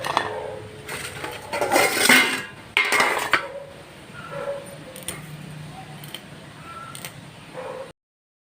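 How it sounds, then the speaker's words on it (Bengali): Fish being cut in a home kitchen, with clattering knocks and scraping of a knife and utensils on a board and pans, loud clustered bursts early, then sparser taps and clicks before the sound cuts to silence. "এবারে মাছগুলো কেটে নিই"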